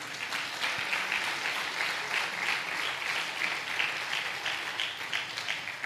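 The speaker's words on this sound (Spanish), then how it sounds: "Denle un fuerte aplauso al Señor." Congregation applause filling a church, a steady dense wash of many hands clapping at even loudness for several seconds, with no voices on top.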